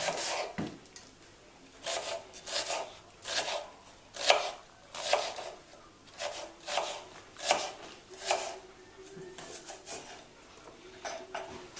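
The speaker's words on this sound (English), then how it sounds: "So just chop the onion as finely as you can." A knife chops an onion steadily on a cutting board, about a dozen crisp, evenly spaced strikes, close and fairly quiet with no talking.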